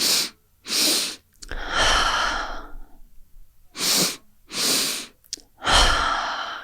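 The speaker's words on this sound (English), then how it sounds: "Starting over with these circular breaths." Deep circular breathing in a steady cycle: two sharp, forceful breaths, then a long drawn-out exhale, with the pattern repeating twice. The breaths are close and clear, with no talking.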